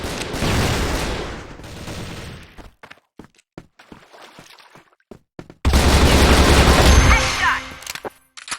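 Gunfire in a first-person shooter game: a sustained burst of automatic fire, then a run of sharp separate shots, then another heavy loud burst.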